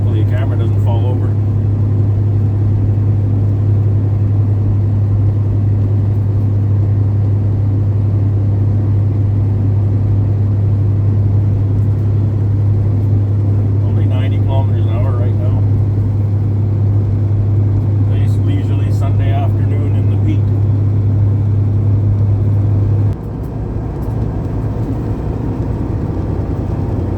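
A bobtail semi truck with no trailer hauls along as its engine holds a loud, steady low drone with rumbling, then the tone shifts and drops slightly near the end.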